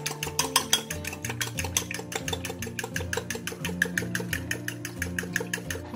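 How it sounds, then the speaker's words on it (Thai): Four eggs beaten with half a spoon of light soy sauce in a bowl, giving a quick, steady rhythmic clatter of whisking strokes under background music. "แล้วเราตีไข่เลยค่ะ"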